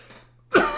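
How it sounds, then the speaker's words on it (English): A single big, forceful cough bursts out loud and close after a moment of near silence, then trails into a rough, breathy exhale. "I needed to have that big cough"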